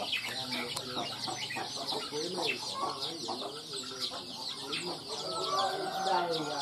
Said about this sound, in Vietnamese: Ở bên dưới anh ấy nuôi khá là nhiều gà.